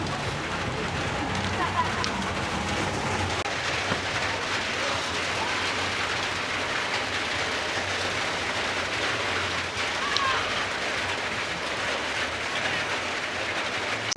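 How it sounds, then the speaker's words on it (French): Heavy rain pouring steadily near an abandoned steelworks in Masina, a dense, constant wash of hiss and patter with no break. "personne ne s'y attendait que ça devait pleuvoir aujourd'hui"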